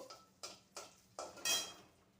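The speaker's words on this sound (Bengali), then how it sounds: "এখানে শুকনো লঙ্কা ফোড়ন দিলাম শুকনো লঙ্কাটা দিয়ে দিলাম এবারের মধ্যে একটু নেড়ে নিয়ে" A utensil knocks against a pan of dried chillies frying four times in a slow, uneven rhythm, each clink fading quickly in an otherwise quiet kitchen.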